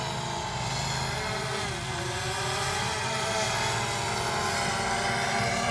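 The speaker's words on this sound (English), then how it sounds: "Now, I'm gonna take and bring the drone close to us." A camera drone hovers close overhead with a steady, loud whine of buzzing propellers that holds unbroken for several seconds.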